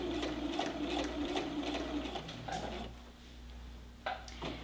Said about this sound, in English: I'm just gonna make sure that I do a couple of back stitches.